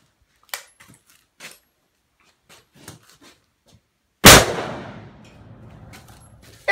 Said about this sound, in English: We're going to shoot this 460 with a 200 grain FTX bullet, one-handed, unsupported.